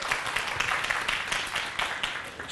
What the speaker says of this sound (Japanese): 拍手しましょう。